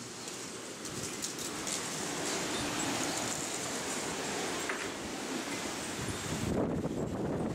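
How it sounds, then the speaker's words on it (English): Outdoor wind blows steadily across the microphone, a continuous broad rushing noise with mild gusts and no speech. "As you can see, and probably hear from the wind, makes it kind of hard to do shit outside"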